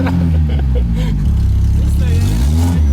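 A Zhiguli converted into a stretch limousine drives along with its engine droning loud and close, the note rising and falling, while people talk inside the car over it.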